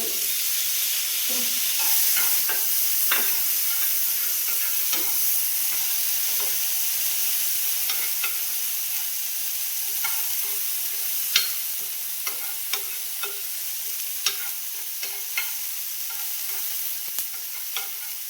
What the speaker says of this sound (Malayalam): നമ്മൾ എന്നിട്ട് തക്കാളിയും സവാളയും ഒക്കെ ഇളക്കി കൊടുത്തോണ്ടിരിക്കുകയാണ് കേട്ടോ.